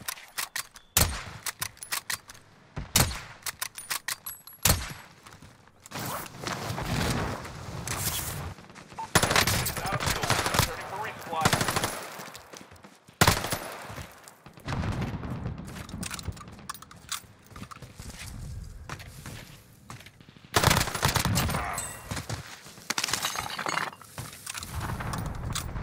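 MP40 submachine gun fire in the video game Warzone, repeated rapid bursts and scattered single shots over about twenty-five seconds, loud and close, with game voice lines and a player talking between volleys.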